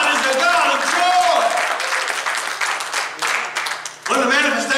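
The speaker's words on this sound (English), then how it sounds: "Give the Lord a hand clap of praise." A church congregation gives a hand clap of praise, a dense patter of many hands running under a speaking voice and steady background sound, with a brief dip near the end before it swells again.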